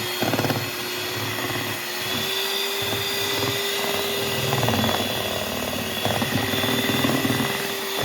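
Electric beater whipping creamy cake batter for a tea cake at home, a steady close motor whine with a constant pitch running unbroken throughout, and faint rattling from the beaters in the bowl.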